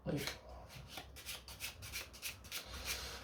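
A deck of playing cards riffled and shuffled close up during a magic trick, a chosen card lost into the pack, giving a run of quick papery riffles and rubs with someone speaking French over them.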